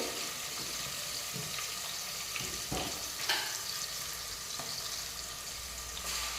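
Onion and ginger garlic paste fry in a pan with a steady, fairly soft sizzle, and occasional stirring scrapes and clicks break through.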